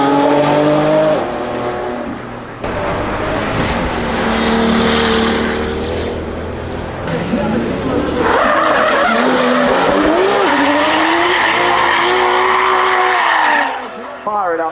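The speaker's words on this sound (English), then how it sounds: "Fire it up whenever needed and kick the back end out" A Toyota Le Mans race car roars close by with a loud, shifting engine note and prolonged tyre squeal as it skids, the revs rising and falling over a voice talking throughout.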